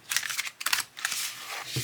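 A tarot deck is riffled and shuffled by hand, producing quick crisp flicks and papery rustles in short uneven bursts, close up and with no talk.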